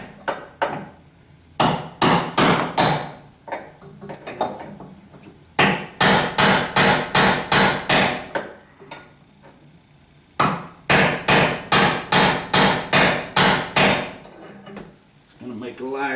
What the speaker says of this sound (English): I'm hitting putting the brass drift as near as I can to the hinge